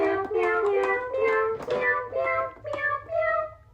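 An electronic toy cat gives a run of synthetic, tonal meows, several short calls in a row stepping between pitches, loud and close with no talking.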